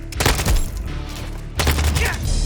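Rapid bursts of automatic gunfire in the video game Modern Warfare 2 on PC, two dense volleys close and loud with a short gap between them.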